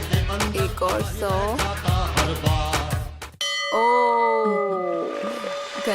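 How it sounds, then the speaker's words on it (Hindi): On a Hindi TV game show, busy music plays, then a bright bell rings out with a sustained, shimmering tone that slowly decays. "घंटी बज गई।"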